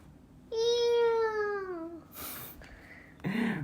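A person imitates a cat's meow with one long, drawn-out falling mew. Brief rustling and a short vocal sound follow.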